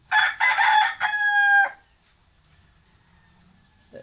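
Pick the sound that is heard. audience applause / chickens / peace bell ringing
chickens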